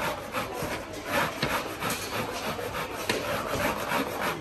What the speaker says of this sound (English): Now I'm cleaning my carpet inside the house.